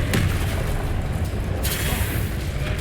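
Incendio fire spell cast in the Hogwarts Legacy video game on PC: a dense, loud whooshing blast with booming low rumble, briefly flaring brighter partway through amid continuous combat noise.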